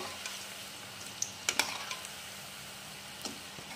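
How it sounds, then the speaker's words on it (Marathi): Small coriander pakoras deep-frying in hot oil, heard as a quiet steady sizzle with a few sharp pops and crackles near the middle, close by, with no talking. "तेल तापलेलं आहे, असे छोटे छोटे भज्जे सोडायचे आहे"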